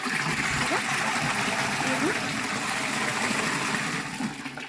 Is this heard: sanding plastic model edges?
no